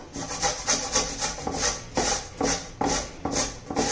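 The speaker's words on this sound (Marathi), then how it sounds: "असं लांब लांब किसून घ्यायचंय आपल्याला." Papaya being grated into long shreds, rapid rasping strokes repeating in a quick, regular rhythm, close and fairly loud, with no talk.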